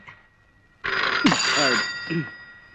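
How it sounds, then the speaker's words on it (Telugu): A telephone rings with a steady electronic tone, joined midway by a voice speaking over it, fairly close in a room. "వెళ్ళి ఆ గదిలో ఫోన్ తీసుకో"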